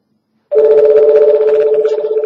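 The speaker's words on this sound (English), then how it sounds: "You have a phone call." A telephone rings loudly and steadily after half a second of silence, a sustained electronic ring with a slight warble, heard alone in a radio call-in studio.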